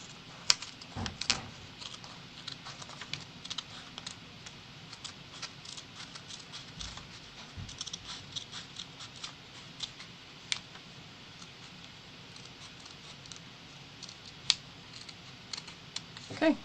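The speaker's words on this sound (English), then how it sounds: "And again, cutting through both layers, just cut it most of the way up." Scissors snip through folded layers of origami paper while a krill model is being made: quiet, close, irregular clicks and cuts over a low room hum, with soft talking in places.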